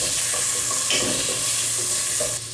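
Chopped tomato hitting frying onions in a pan for egg biryani, a loud constant sizzle with scraping stir strokes and small spatters, close and continuous.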